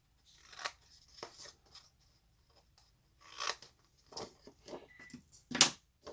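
Scissors snipping through paper pieces for a stamped money wallet craft, several crisp cuts in uneven bursts separated by short pauses, close up and quiet.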